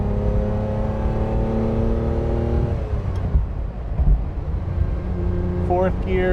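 A 1967 Ferrari 330 GTC engine cruising on New York streets, a steady humming drone that fades after a few seconds into softer road noise, with a brief voice near the end.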